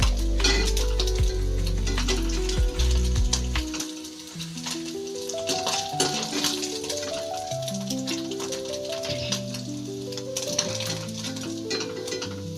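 Small sardines fry in hot oil in a pan for pickle, giving a steady, moderately loud sizzle with occasional clinks of utensils beneath a melodic musical backing.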